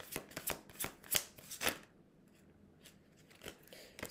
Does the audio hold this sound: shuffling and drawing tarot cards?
yes